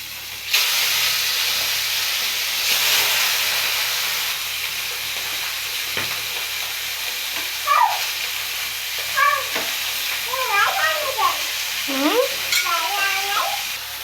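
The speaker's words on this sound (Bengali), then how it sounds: "প্রথমে মাছগুলো ভাজিয়ে নেব, নুন হলুদ দিয়ে মাছ মাখাই নেব।" Fish coated in salt and turmeric fries in hot oil with a broad, steady sizzling hiss, while a cat meows several times nearby toward the end.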